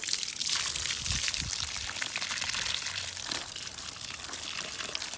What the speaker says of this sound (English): But I'm watering them down real good.